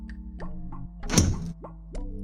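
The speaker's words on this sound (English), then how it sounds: "Throw cinder block at the door." A heavy cinder block thrown against a door lands with a single loud, dull thunk in the middle, set against a steady low hum and soft background tones.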